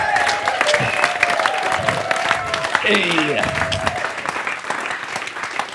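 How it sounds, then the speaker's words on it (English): An audience at a live Perth blues talk show claps for the band members, a dense patter of applause with a few whoops, while a brief spoken exclamation cuts through. "I'll give them a round of applause for Rick and for Lee."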